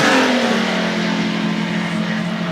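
Formula One racing cars scream past at full speed, fighting for position, their loud rising engine notes sweeping close by and fading as they head down the track.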